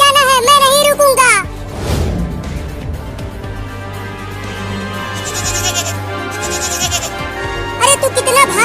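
A cartoon young goat bleats in loud, quivering cries at the start and again near the end, with a busy, noisy cartoon soundtrack filling the stretch between.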